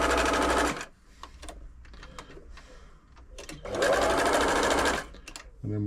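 Singer 6104 sewing machine stitching a pattern, loud rapid whirring bursts of stitching that stop and restart, with a pause of quiet clicks between runs.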